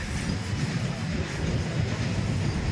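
A train running with a rear wheel low on air, a steady low rumble and rattle that holds throughout at moderate level with no voices.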